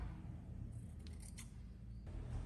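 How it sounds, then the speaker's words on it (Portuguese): Scissors cutting through fabric scraps folded four times, several faint crisp snips over a low background hum, recorded close but quiet. "Então, aqui tem a altura de 12 centímetros e eu dobrei 4 vezes. Agora é só cortar."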